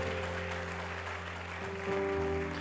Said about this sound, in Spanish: Dale un aplauso al Padre.